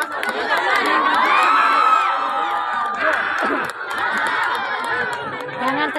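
Loud crowd of adults and children shouting and cheering at an outdoor tug of war contest, a dense, continuous roar of overlapping voices and whoops that holds steady throughout.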